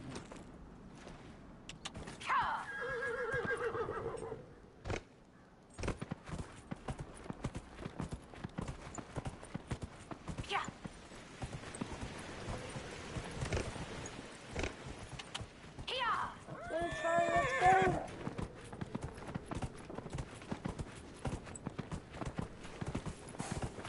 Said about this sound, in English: Let's call this horse back.